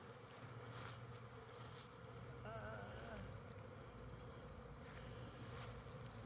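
Honeybee swarm buzzing steadily during a spring swarm removal in Michigan, a dense, even drone that stays at a constant moderate level throughout, with faint higher tonal sounds briefly over it.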